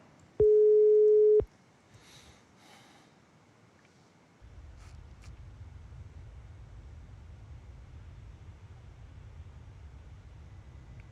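A single steady electronic tone of about one second sounds through an IP phone on a DINSTAR IP PBX as a call is placed, followed by faint clicks and a low steady line hiss.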